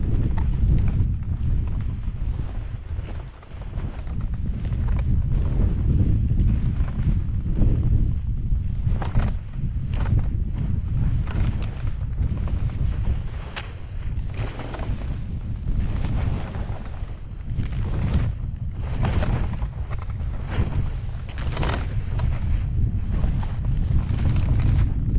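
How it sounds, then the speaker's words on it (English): Strong wind roars across a snowy ski slope at Kicking Horse, a loud continuous buffeting rush with gusting swells battering the microphone throughout. "Wind's picking up, but it's still snowing"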